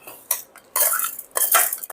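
A metal spoon clinks and scrapes against a vessel while mixing tempering into curd rice. Several quick, close bursts of clatter are separated by brief pauses.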